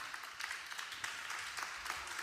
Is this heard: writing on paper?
no